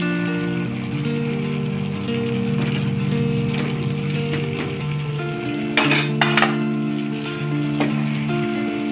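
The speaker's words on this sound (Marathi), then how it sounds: "तर आता याच्यामध्ये आपण टाकून घेऊयात बॉल्स" Veg manchurian balls dropped into a pan of thickened cornflour gravy, with scraping and clinking of a utensil against the pan over a soft sizzle, plus two sharper metallic clatters near the end.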